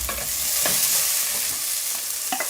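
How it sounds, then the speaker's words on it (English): Steady sizzling from onion and garlic frying in a hot pan, with occasional scrapes and clicks of stirring, close and continuous, no voices. "Start off with onion garlic. Sizzle, sizzle, sizzle."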